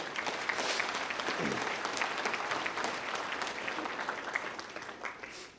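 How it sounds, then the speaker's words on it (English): An audience at a Young Farmers & Ranchers discussion meet competition gives the contestants a steady round of clapping, dense and continuous, fading slightly toward the end. "Please give all of our contestants a final round of applause for their efforts."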